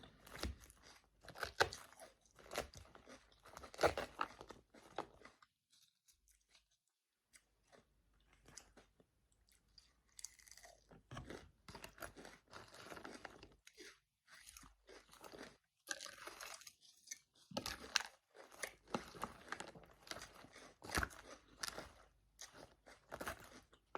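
Crisp, crunchy chewing of an M&S Caesar salad, close to the mic in irregular bursts with a few quiet pauses between bites.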